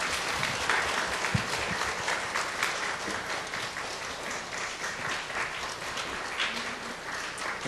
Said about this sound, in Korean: 박수로 인사를 대신하겠습니다.